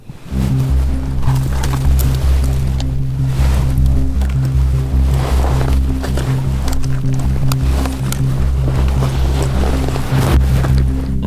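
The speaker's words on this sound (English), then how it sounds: "Wind's picking up a little bit, which is good." Wind blowing hard across an overcast mountainside during a hunt, a loud, steady rush and rumble buffeting the microphone for the whole stretch, with no voices.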